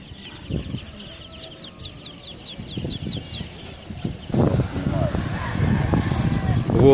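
Pigeons at a bird market in Kropotkin coo and cluck nearby while wings flap now and then, with people talking throughout and the bird noise growing busier toward the end.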